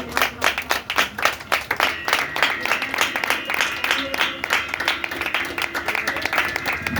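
A church congregation claps hands continuously in a fast, fairly steady rhythm, the crowd's applause filling the room, with voices audible underneath.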